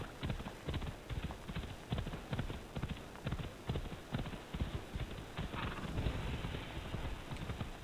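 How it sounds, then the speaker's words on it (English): Horse hooves in a video game, clip-clopping steadily along a beach in an even galloping rhythm, close and moderately loud for about eight seconds, with no talk over them. "Get on the horse, right. Now we're just going to do a nice little ride along the beach."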